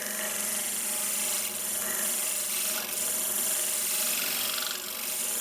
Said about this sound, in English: Spindle gouge on its side. Let's shear scrape this bit here,